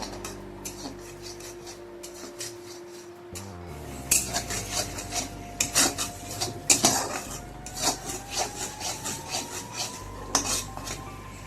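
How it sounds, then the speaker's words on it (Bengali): Mushrooms stir-fried in a pan with turmeric, salt and Kashmiri chilli powder: after a quiet hum, a utensil scrapes and clatters against the pan in repeated close strokes. "দিয়ে একটু ভালো করে কষিয়ে নেব, তেল ছাড়া অবধি কষাবো।"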